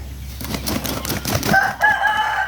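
A red Insee Daeng breeder rooster of Burmese game stock crows once close by, after a moment of rustling and wing movement in the pen.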